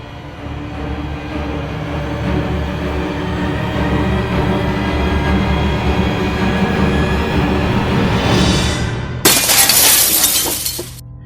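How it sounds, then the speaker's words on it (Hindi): Window glass bursts into a sharp, loud shatter near the end, struck by a thrown statue in a Hindi horror story, after a long, low rumbling drone. "विंडो की ग्लास टूट गई।"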